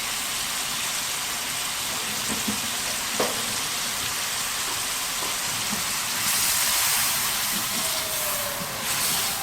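Chicken karahi cooking in a pan, a steady close hiss of frying with a few small pops and crackles throughout, growing slightly louder toward the end, with no talk.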